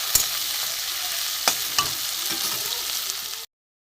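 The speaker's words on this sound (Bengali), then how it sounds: "এখানে দেবো গোটা এই থেতো করা রসুন। এটা আমি ভালো করে কষে নেব।" Onion, tomato and crushed garlic fry in a pan with a steady close sizzle, broken by a few sharp clinks and scrapes of stirring, then the sound cuts off.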